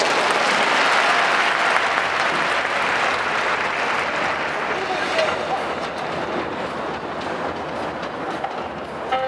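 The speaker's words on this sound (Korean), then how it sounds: "다섯 분께 뜨거운 박수 부탁드립니다." An audience at a film festival event in Busan gives sustained applause for five film guests. The clapping is a broad, roaring wash that holds steady and then fades slightly, with voices mixed in.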